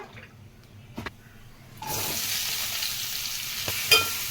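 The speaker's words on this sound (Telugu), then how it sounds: "అదే ముగ్గులో ఇంక రెండు స్పూన్లు ఆయిల్ వేసుకుందాం క్యాప్సికమ్ ఫ్రై చేసుకుందాం" Capsicum dropped into hot oil in a pan, quiet at first, then a sudden steady frying sizzle that continues close and even, with a brief clatter near the end.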